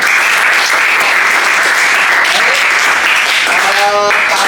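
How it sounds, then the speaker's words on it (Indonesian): Classroom applause from students, loud close clapping filling the whole clip, with a voice briefly heard near the end. "tepuk tangan buat Mbak Aulia."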